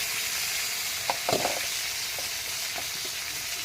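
Chopped tomatoes go into a pan of frying onions and lathe fish, giving a steady, soft sizzle with a few light stirring knocks and clinks.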